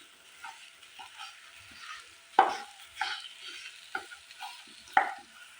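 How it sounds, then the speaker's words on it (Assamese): Broken boiled potatoes are stirred and fried in a pan over a low gas flame: soft sizzling under a series of spatula scrapes and clanks, several sharp knocks spaced a second or so apart, fairly quiet overall. "মই আলুখিনি ল' ফ্লেমত এইদৰে ভালদৰে ভাজি লোৱা হৈ গ'ল"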